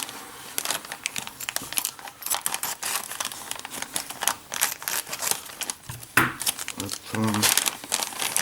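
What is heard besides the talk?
unwrapping Eaglemoss Ecto-1 model parts from plastic packaging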